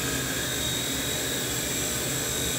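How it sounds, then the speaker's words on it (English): A small T-REX 100X A5 fixed-pitch RC helicopter flying indoors gives a steady, loud, high-pitched whir of rotor and electric motor that holds constant throughout, with no voices. "It's a great helicopter. You can fly it indoors."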